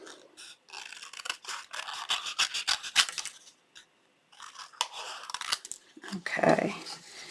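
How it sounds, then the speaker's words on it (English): Scissors fussy cut excess paper from a handmade card in close, crisp snips and rustling slices, one burst after another, with a short pause midway. "Now let's quickly fussy cut, cutting off that excess."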